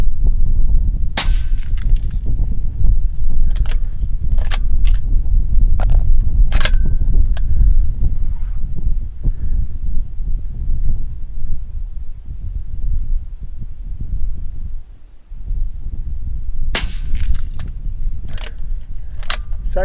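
Rifle shots from a .22-250 fired at prairie pests outdoors: a few sharp cracks spaced across the stretch over constant low wind rumble, with one pair near the start and another late.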